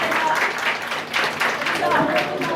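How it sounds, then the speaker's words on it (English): Seminar audience applauding, a steady wash of many hands clapping for about two seconds, fairly loud and close, with voices mixed in. "We would need a round of applause."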